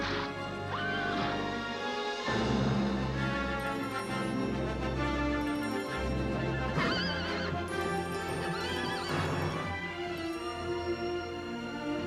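A horse neighs and whinnies loudly over a dense orchestral score as the winged horse Pegasus bucks to throw off a rider in a 1960s Greek-myth fantasy film, with two shrill whinnies rising above crashing music.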